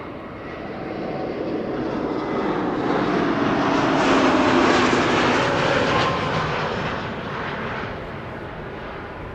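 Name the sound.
Air Transat Airbus A321neo jet landing at Amsterdam Schiphol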